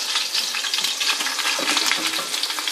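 Onions dropped into a hot pan with garlic, giving a loud, steady close sizzle and crackle of frying that holds without pause.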